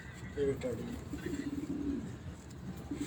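Low pigeon coos rise and fall in a continuous, fairly close murmur, with faint chirps and background voices.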